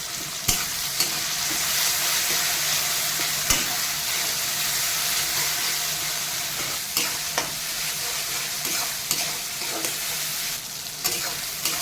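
A paste of cumin, pepper, ginger and dried chili fries in a pan for a Bengali koi fish curry, a loud continuous sizzle broken by intermittent spatula scrapes and taps.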